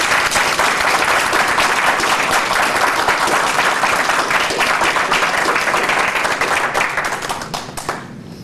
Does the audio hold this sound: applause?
yes